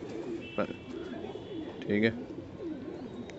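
A pet pigeon gives a few low coos, close by, with a short phrase of speech in the background.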